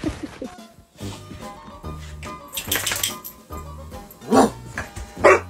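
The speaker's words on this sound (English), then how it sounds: "The bark is a signal of a super emotional hug." Several short, sharp dog barks come in bursts among whimpers and scuffling, fairly close and loud, with a few yips in between.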